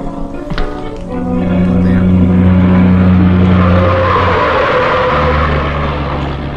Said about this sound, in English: Oh man, he's totally driving that car right now.